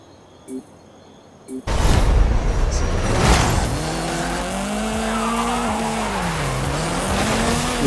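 Ferrari P4 race car in a racing video game, its engine roaring loudly from a standing start as it accelerates, with rising gear-shift tones and occasional tire squeal, continuous and close.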